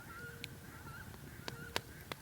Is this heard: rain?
no